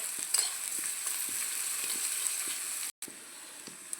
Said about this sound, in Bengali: মশলাগুলো ভালো করে ভাজা